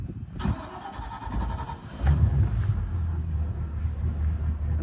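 A Bayliner 255 boat's Mercruiser 5.0L MPI 260HP inboard engine cranks briefly and catches, settling into a steady low idle rumble close by, with no talking.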